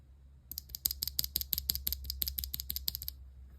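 Fingers type on a LUMINKEY98 numpad fitted with Sylvia mechanical switches, a brisk run of crisp, fairly quiet clicks close up over a low steady hum, with no talking.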